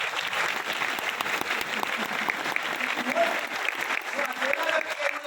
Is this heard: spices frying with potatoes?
no